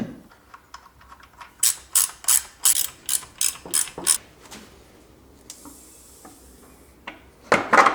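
Ratchet wrench tightening drive shaft coupler screws on a BMW E38 750iL, a run of about eight quick, loud clicking bursts, then a pause and a brief final burst of clicks up close.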